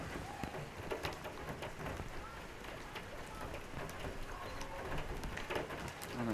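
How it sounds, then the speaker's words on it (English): Steady rain falls on a women's Premier One football match between Curtin University and Suburban Lions, a continuous hiss of drops with scattered patters and crowd or pitch noise under it. "This rain certainly showing no signs"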